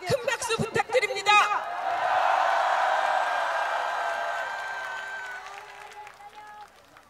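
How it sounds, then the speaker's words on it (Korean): A voice booms briefly over the loudspeakers, and then a large candlelight rally crowd breaks into sustained applause and cheering that swells and slowly fades away. "촛불 집회를 이끌어주시는 개총수와 자봉들에게 큰 박수 부탁드립니다."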